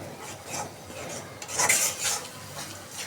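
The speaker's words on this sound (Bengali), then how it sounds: "এই যে হলুদ মরিচ ধনিয়া আদা রসুন বাটা এখন ভালোভাবে কষাই নেব" Turmeric, chili, coriander and ginger-garlic paste are stirred and fried in a pan for a prawn curry with potatoes and greens. A spoon scrapes and clinks softly and steadily against the pan, with no one speaking.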